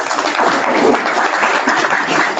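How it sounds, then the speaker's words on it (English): Audience at a Commonwealth Defence lunch breaks into applause, a short, loud, dense patter of many hands clapping together with no talk. "Now, that applause was led by Dr. Colin Soldan"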